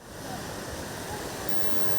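Ocean waves breaking on the rocks of Ngor island, a continuous roaring wash of surf, loud and steady with no voices.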